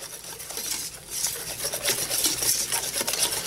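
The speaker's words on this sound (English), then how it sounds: "I'm going to take all those ingredients and give it a good whisk" Beer batter ingredients whisked together in a bowl, a steady scraping, pattering swirl running continuously at moderate loudness with no talking.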